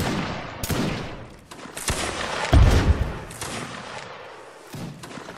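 Musket volleys ring out in a Napoleonic Wars line battle game, several loud overlapping gunfire bursts and thuds, with one heavy close blast near the middle and scattered distant shots.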